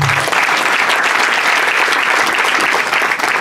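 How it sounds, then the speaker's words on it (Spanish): Loud, dense applause from a crowd at a religious celebration honoring the Virgin of Fátima in Chuchucá, filling the whole stretch steadily without pause. "Fuertes aplausos"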